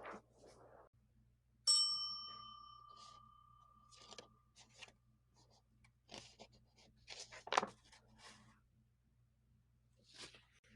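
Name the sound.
bell chime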